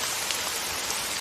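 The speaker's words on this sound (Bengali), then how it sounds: "এই বৃষ্টির মধ্যে কি কষ্ট" Steady rain pours down close by in a dense, unbroken hiss that stops abruptly at the very end, with no voices.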